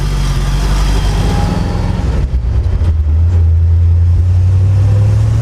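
A 1940 Ford car accelerating along the road, its engine droning loud and steady from inside, then pulling harder with a rising low growl and heavy rumble toward the end.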